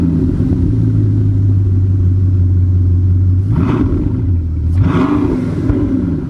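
A Bugatti Chiron hypercar accelerates hard, its engine drone holding a steady pitch before rising sharply through two quick gear changes, each marked by a brief burst, loud and close with no talk.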